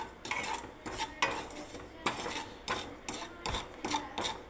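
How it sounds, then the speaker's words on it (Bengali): Semolina stirred in butter in a kadai for a Holi sweet, a spoon scraping and clinking against the metal pan in repeated strokes, close and fairly loud with no one talking. "এবার আমি সুজিটাকে ঢেলে দিচ্ছি। দেখুন, এবার আমি নাড়তে থাকবো।"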